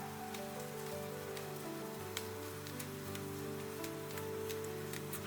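Steady rain falls outside a home window, a dense patter with scattered sharper drops over a constant low hum.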